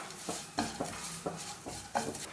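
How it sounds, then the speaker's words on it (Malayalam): A spoon stirs coriander and turmeric powder into fried onions in a pan, five or six soft scraping knocks against the metal at an uneven pace over a low background sizzle, close and fairly quiet. "നന്നായിട്ടൊന്ന് മിക്സ് ചെയ്ത് കൊടുക്കാം."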